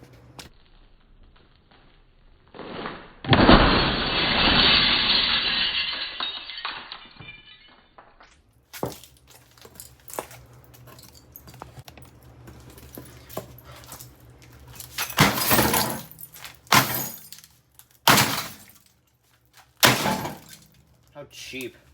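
Glass breaking from a Samsung over-the-range microwave being smashed: a loud burst of shattering that rings out for several seconds, followed by scattered crashes, knocks and sharp impacts, with voices talking in between.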